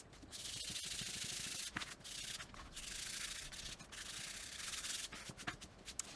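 Steady, hissy rubbing of 2000 grit sandpaper on painted wood, back-and-forth strokes with brief pauses, close and fairly soft.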